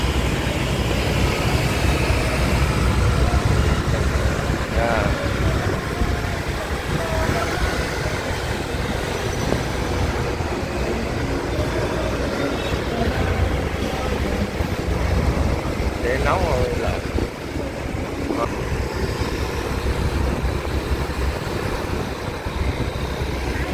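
A motorbike rides through city streets in Da Nang along Nguyen Tri Phuong street, with a steady engine drone and rushing wind noise that stay loud and close the whole time.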